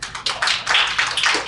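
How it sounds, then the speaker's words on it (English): Audience applause greeting a presenter at a professional talk on social work licensure, a dense, steady clapping that fills the room for its whole length at moderate loudness. "let's give her a big applause"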